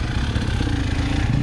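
Dirt bike engine labouring on a rough, hard trail near Arapongas, Paraná, a steady close mid-pitched drone with a low rumble throughout and no voices.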